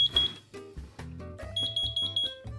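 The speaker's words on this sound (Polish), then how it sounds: "Tutaj mi pika, że już jest skończony czas." A smokehouse heater controller beeps when its timer finishes: a series of short, bright electronic beeps, close and clear, with other brief tones and faint background noises around them.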